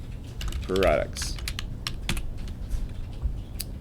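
Steady typing on a computer keyboard while entering text into a PowerPoint slide, a run of light, irregular key clicks close up, with faint background noise and a brief vocal sound.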